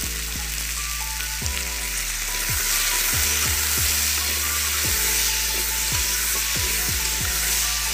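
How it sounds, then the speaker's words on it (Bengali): Potatoes with turmeric and salt fry in a wok, a loud, steady hiss and crackle filling the whole span, with repeated low knocks and scrapes from stirring; no one speaks. "তো কড়াইতে আমি আলুগুলোকে ছেড়ে দিচ্ছি।"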